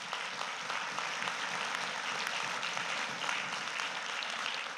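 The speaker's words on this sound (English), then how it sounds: "That's a round of applause right there." Faint, distant applause from a union meeting audience of nurses, a steady wash of many hands clapping throughout at low level with no talking.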